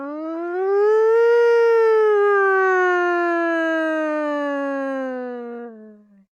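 A single siren wail rises then slowly falls over about six seconds, loud and close, with strong harmonics and no voices.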